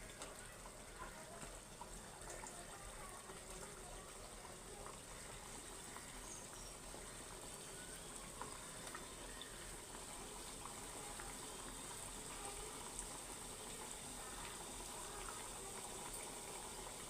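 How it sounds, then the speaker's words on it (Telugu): Badusha sweets frying in hot oil over a medium flame, giving a steady, continuous bubbling sizzle that stays even and fairly quiet throughout with no break. "బాదుషాలు అయితే నూనెలో వదులుకుందాం."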